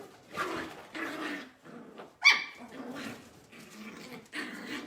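Small dogs yapping and barking in short bursts, fairly close, with a higher yelp in the middle and some whimpering between barks.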